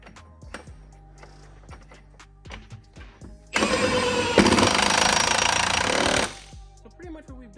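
An impact gun hammers on a car's rear subframe bolt during suspension work on a 2.7T-swapped wagon, a loud close rattling burst lasting about three seconds between quieter clinks and workshop knocks.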